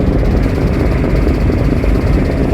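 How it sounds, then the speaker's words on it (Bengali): Passenger launch MV Manami pulling away from the Barisal ghat bound for Dhaka, its engine a loud, steady, dense low drone that fills the whole stretch without pause. "আর তার সাথে এখন লঞ্চ ছাড়ছে হচ্ছে এমবি মানামি।"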